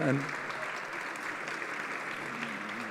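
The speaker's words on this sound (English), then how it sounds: "I would really ask for a round of applause for these three" A conference audience claps for honoured colleagues during closing remarks, a continuous, moderately quiet patter of many hands with no break.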